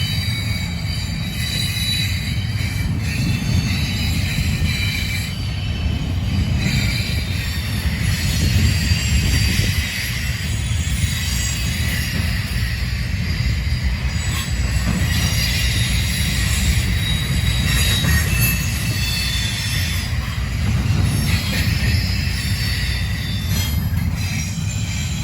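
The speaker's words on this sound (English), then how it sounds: "Don't know how long that train was, but it took him 11 minutes to pass" A long freight train rolls steadily past at close range, including empty well cars, with a continuous low rumble and clatter of wheels and faint squeals, loud and unbroken throughout.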